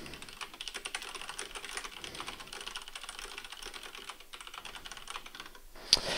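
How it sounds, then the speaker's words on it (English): Rapid, steady typing on a computer keyboard during a StarCraft tournament stream, close and fairly quiet with no voice over it. "Let me type in the chat."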